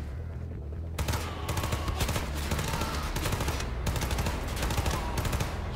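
Rapid gunfire from the video game Wolfenstein 2: The New Colossus, with bursts of automatic shots rattling loudly and densely after a brief quieter opening, continuing almost without pause.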